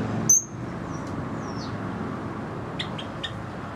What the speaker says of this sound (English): Now there's also 5 turquoisines in here, grass parakeets from Australia.